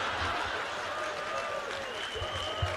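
An audience at a motivational talk breaks into a brief patch of applause and scattered clapping, with some chuckles, moderately loud in the room.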